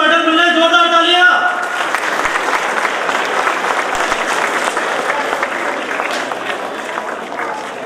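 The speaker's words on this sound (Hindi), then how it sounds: "भाई बच्चों को मेडल मिल रहे, जोरदार तालियां" Audience applause for children receiving medals at a Dr. Ambedkar Jayanti event bursts in right after a held tone and continues as a dense, steady clapping through the end, fading slightly.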